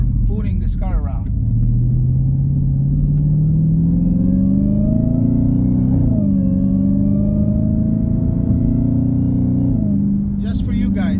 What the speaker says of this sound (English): Just for you guys to hear that glorious supercharged V8.